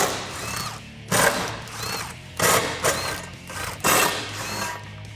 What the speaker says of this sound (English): So I'll get a 13 millimeter socket on an impact gun to get these off.